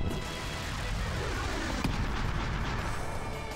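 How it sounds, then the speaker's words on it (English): Fire Pillar spell effect in Chrono Cross: a dense, roaring burst of explosive crackle and rumble that stays loud and steady for several seconds, with a sharp crack near the middle and no talking. "Fire pillar!"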